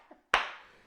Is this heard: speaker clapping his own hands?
yes